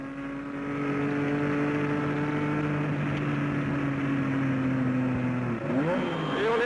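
Onboard an Alpine Renault race car at Le Mans in 1978, the engine holds a loud, steady high drone as it accelerates, then dips briefly around a gear change and climbs again toward the end.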